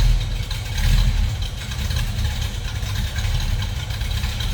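A 1966 Ford Mustang Shelby GT350-Hertz tribute with a Shelby 289 GT350-type cam idling: a steady, deep, lumpy V8 rumble, close and loud, without revving.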